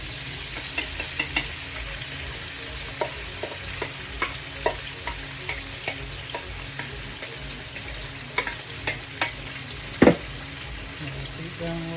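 Vegan sesame chicken is stir-fried in a wok, with a constant sizzle and repeated clicks and scrapes of stirring, plus a sharper knock toward the end.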